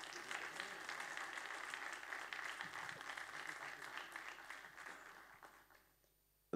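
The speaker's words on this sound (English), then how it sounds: "Continue clapping." Audience applause at a film masterclass as a guest is called onto the stage, dense steady clapping from a crowd that thins and fades out near the end.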